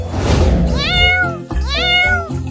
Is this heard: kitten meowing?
yes